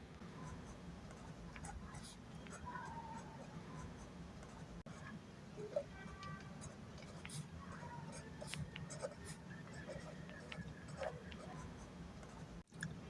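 Faint handwriting scratches of pen on paper during a Class 7 maths lesson, with short irregular strokes and taps over a low room hum and quiet background noise.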